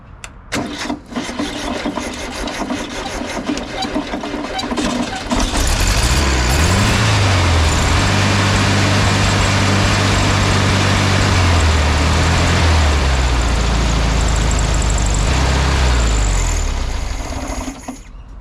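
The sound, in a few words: 1970 Volkswagen Beetle engine starting and running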